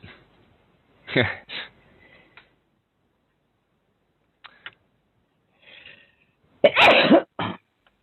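Two loud sneezes, one early and one toward the end, each a sharp burst, with a couple of faint ticks and a soft murmur in between.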